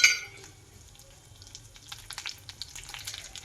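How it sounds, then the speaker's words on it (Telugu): Soft crackling and popping of tempering spices and dried red chillies frying in hot oil, sparse at first then growing busier, close and fairly quiet. "ఇప్పుడు దీన్ని పోపు వేసుకోవాలి"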